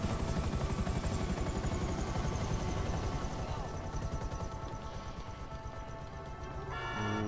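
A helicopter's rotor chops loudly and steadily in the video game GTA 5, the thumping slowly easing as it sets down, with a brief burst of other noise at the end.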